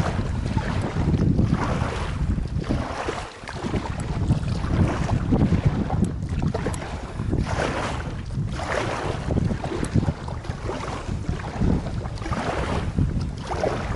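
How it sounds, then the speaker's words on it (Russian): Strong gusting wind buffeting the microphone while a boat is rowed on open water, loud, continuous roaring bursts with splashy wash underneath and no talking. "Ветер усиливается как будто только."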